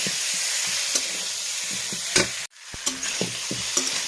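Ginger with flour, turmeric and chilli powder sautéing in a pan, a steady close sizzle broken by scraping stirs and spatula knocks, with a brief dropout midway before the frying resumes.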